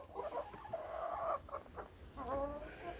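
Several new hens in a coop during an Atlantic Canada snowstorm, giving close, busy clucks and short rising calls that overlap for a few seconds with no talking.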